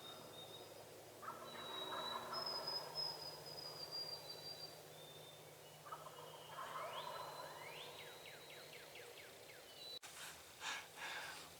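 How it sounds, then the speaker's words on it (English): Wild toms gobble at dawn during a Wisconsin spring turkey hunt, several rattling calls carrying from a distance over quiet woods, with a sharp nearer burst near the end. "the turkeys continue to gobble"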